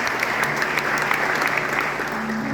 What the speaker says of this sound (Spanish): Alguien que le aplauda.